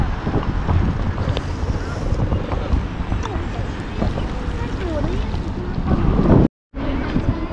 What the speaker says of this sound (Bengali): বাট কাফি জোরে জোরে ঠান্ডা বাতাস দিচ্ছে।